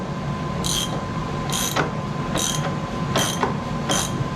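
Hand ratchet cranking big suspension bolts on a 6.7 Powerstroke truck, five distinct bursts of rapid pawl clicks at an even, unhurried pace, close and fairly quiet over low shop background.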